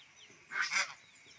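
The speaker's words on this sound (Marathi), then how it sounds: "बदक चाललंय त्याच्याकडे" A duck gives a single short honking quack, fairly faint and slightly distant, standing out briefly against quiet surroundings.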